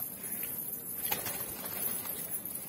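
Pigeons in a loft in Pune, sold as high-flying birds, give soft, low cooing and faint rustling in the background, quiet and continuous with no talk over them.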